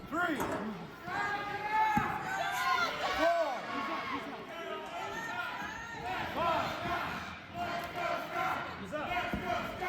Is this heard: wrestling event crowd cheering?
yes